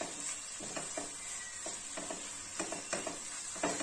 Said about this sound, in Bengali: দিয়ে এটাকে ভালো করে মিশিয়ে নিলাম।